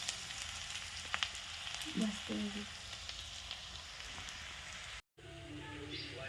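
Onion frying in a pan for a dal and onion dish, a quiet, steady sizzle with a few faint stirring clinks, close and continuous, with brief soft voice sounds.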